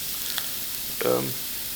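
Pork loin sears in a pan on high heat with a soft, continuous sizzling hiss, while a voice briefly murmurs partway through.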